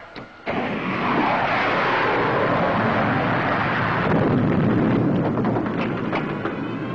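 A 1954 science-fiction serial sound effect of a spaceship weapon firing: a sudden blast opens a sustained roaring, rumbling explosion that stays loud and churning for several seconds, with no speech.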